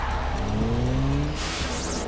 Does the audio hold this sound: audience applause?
no